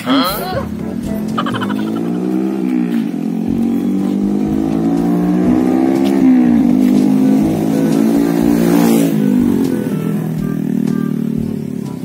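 A car drives close by with its engine revving, a loud, steady roar whose pitch rises and falls for about twelve seconds while people talk over it.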